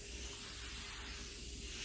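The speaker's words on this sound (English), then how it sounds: "I'm gonna take this spray right here that I showed you, and I'm gonna clean my table." Cleaning spray hisses steadily onto a dusty dining table, a soft continuous mist sound that holds evenly throughout with no voices.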